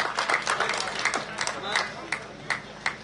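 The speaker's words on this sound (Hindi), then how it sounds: "करताली स्वागत करवा उर्मिला दास महाशय को।" An audience at an outdoor fitness run event in Bhubaneswar claps to welcome a guest, giving scattered, uneven claps of moderate loudness while a voice carries on over the crowd.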